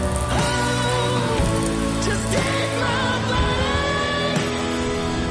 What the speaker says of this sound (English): Luckily we arrived on time before rain started.